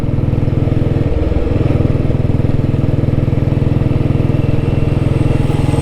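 A vintage Royal Enfield Bullet motorcycle thumps along at a steady, loud, close single-cylinder beat while riding, with a brief dip in the rhythm partway through.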